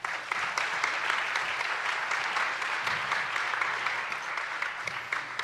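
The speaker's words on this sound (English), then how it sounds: "Big round of applause." Audience applause for a startup investor panel at a tech conference, dense steady clapping filling the room throughout, with faint whoops underneath.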